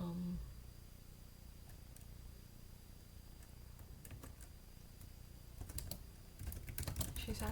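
A keyboard is typed on in scattered, fairly quiet clicks over a steady low room hum, with faster bursts of keystrokes toward the end.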